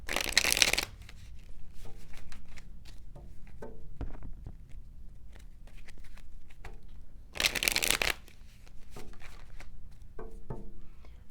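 Intimate Tarot cards are shuffled by hand in two loud riffling bursts near the start and middle, with soft card slides, taps and handling sounds in between and no talking.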